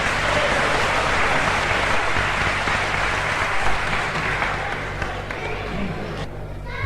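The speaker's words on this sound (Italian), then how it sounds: "Prego, un bel applauso di incoraggiamento" Steady, broad applause from an audience at a 1977 gathering in Udine, a continuous wash of many hands that holds for several seconds and then eases slightly toward the end.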